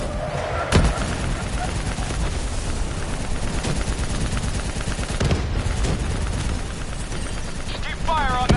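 Gunfire aimed at a VTOL aircraft in Call of Duty Black Ops 3, from a turret among attacking grunts: rapid machine-gun bursts and heavy shots over a constant rumbling battle din, with a voice shouting partly over it.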